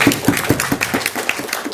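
Audience clapping at a book release event, a ragged run of hand claps at close range, fairly loud and continuous without talk.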